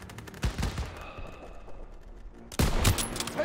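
Bursts of gunfire in the World War II shooter Call of Duty WWII, a sharp volley near the start and another loud crack later, set against a quieter stretch of battlefield ambience.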